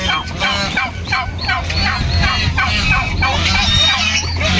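Several turkeys gobble in repeated bursts close by, their rattling calls overlapping in a loud, busy flock with a low background hum.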